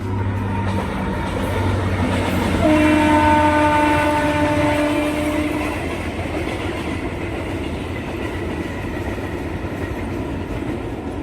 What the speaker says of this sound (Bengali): এখন রেল আসছে তার জন্য